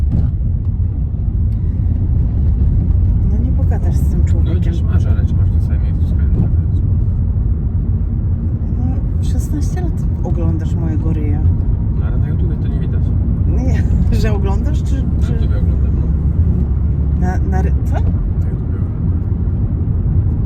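Three people ride in a car, a low steady engine and road rumble filling the cabin while passengers chat and laugh over it throughout.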